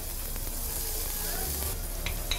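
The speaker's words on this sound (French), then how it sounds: "Toujours dans notre même poêle, on va faire suer les oignons" Onions sweating in a frying pan that was just used for fish, a soft, fairly quiet sizzle with light stirring clicks and no voices.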